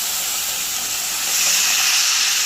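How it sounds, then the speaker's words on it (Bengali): Water poured into sizzling spice paste frying in a pan for a rohu fish curry gives a close, bright hiss that swells into louder steaming sizzle halfway through and holds steady, with no talk. "এখন এবার জল দিয়ে দেবো"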